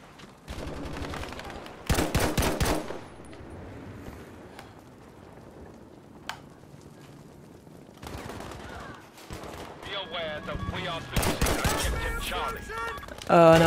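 Bursts of gunfire from a Battlefield V match crack out in quick clusters, with rapid volleys near the start and end and scattered single shots between, over ambient battle noise and occasional talk.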